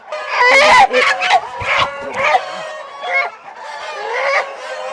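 Several Tiger breed chickens cluck and squawk loudly and close by, with a rooster-like crow breaking through the busy, overlapping calls.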